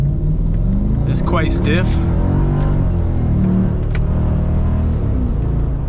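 A Mercedes ML55 AMG engine with a Bosch ME 2.0 ECU drones under load on a test drive, a steady low rumble heard from inside the cabin while someone talks over it.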